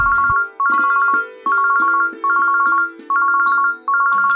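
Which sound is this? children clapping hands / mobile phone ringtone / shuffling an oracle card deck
mobile phone ringtone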